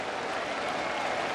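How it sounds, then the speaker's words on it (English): A big crowd applauding at Fenway Park during a Boston Red Sox versus Texas Rangers baseball game, a dense, steady wash of clapping and cheering that fills the whole stretch with no gaps. "And the crowd saluting him here at Fenway."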